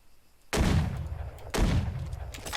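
Two sharp, loud gunshots about a second apart ring out in a battle royale video game, each one snapping in hard and trailing off into a long, booming echo. No voices are heard over them.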